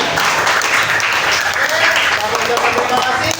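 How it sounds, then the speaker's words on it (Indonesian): Classroom applause at the end of a lesson in an Indonesian school, a short burst of many hands clapping together with voices mixed in. "tepuk tangan buat kita semua"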